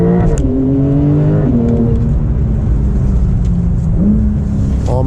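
A Porsche 992 Turbo S engine roars loudly up close, its pitch climbing as it accelerates, dropping briefly at each gear change before rising again.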